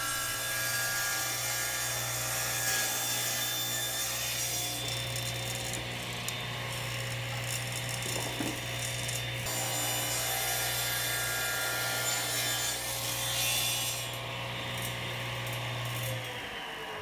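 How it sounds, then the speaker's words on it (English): A saw with its blade tilted for a bevel cuts the corners off a padauk and tiger maple dovetailed keepsake box, a steady loud motor hum and cutting whine running continuously throughout. "put a little bevel on my saw and just cut the corners off all the way around."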